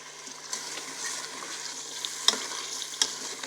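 Aloo palak gravy of spinach and potato sizzles and fries steadily in a pan, with a spoon scraping and stirring through it and a few sharper clinks standing out, close and moderately quiet with no talking.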